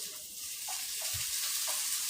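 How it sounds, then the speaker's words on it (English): Cauliflower stir-fry sizzles steadily in a hot, lightly oiled pan, a constant hissing crackle with a few soft scraping touches, close and moderately loud. "So you hear that little sizzle?"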